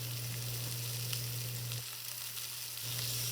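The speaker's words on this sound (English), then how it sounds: "we're going to let them cook in the pan for 2 minutes undisturbed. Get a really nice crust on that steak." Steak searing undisturbed in a hot pan, a dense, even sizzle that continues close and unbroken for a few seconds, with no voices.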